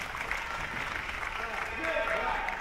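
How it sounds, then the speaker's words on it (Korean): A crowd at the AFC26 MMA event applauds two fighters between rounds, a steady wash of clapping with a voice speaking over it throughout. "양 선수에게 우리 박수를 부탁드리겠습니다."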